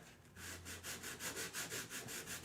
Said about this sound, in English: So instead, we're gonna keep sanding this down.